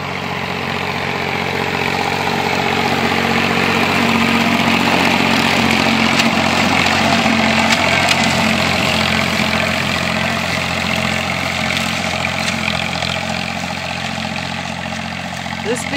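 A tractor runs steadily while bush-hogging a large leased field on a small holding, its heavy engine drone and mower roar loud, close and continuous throughout.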